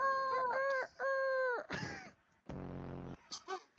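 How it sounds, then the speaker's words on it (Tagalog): A rooster crows with a few drawn-out, harmonic calls, followed by a burst of broadband noise and a short squawk, loud and close, with no talking. "Rooster chicken."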